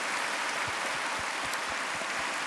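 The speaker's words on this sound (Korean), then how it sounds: "박수합니다." A congregation applauds during a Korean Presbyterian Sunday worship service after a baptism, a dense, steady patter of many hands clapping that fills the church evenly throughout.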